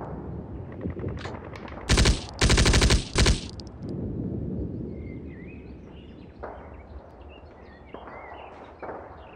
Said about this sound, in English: Should have used the machine gun in the first place, damn it.